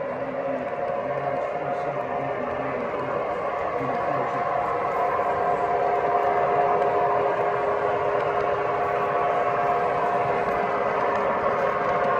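O gauge model trains run on a large home layout, making a steady rolling rumble with a continuous tonal hum. The sound is moderately loud and unbroken for about twelve seconds, with no clear talk over it.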